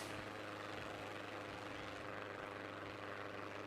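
An airplane engine in a video game drones steadily, a loud, unbroken propeller-like roar with no pauses or shifts in level over the short stretch.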